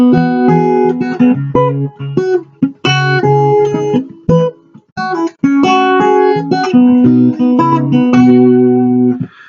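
A plucked acoustic riff, fingerpicked notes ringing in short repeated phrases with brief pauses, played alone and close.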